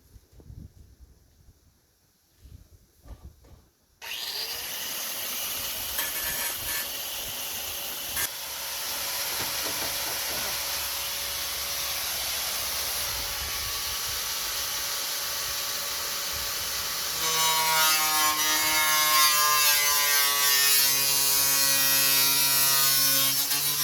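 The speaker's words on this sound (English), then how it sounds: "I'm going to trim this lip back so it's the same as this one." Trimming back a lip on a 1989 Honda Civic body panel for a weld line: a loud, steady grinding-cutting hiss and whine runs for about twenty seconds after a brief quiet start, growing harsher and more resonant toward the end.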